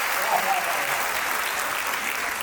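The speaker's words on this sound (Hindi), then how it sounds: "मुझे आपकी तालियां कमजोर नजर आ रही है।" An audience claps at a Hindi poetry recital (kavi sammelan) in a Delhi hall, a loud, dense, unbroken roar of applause lasting the whole moment.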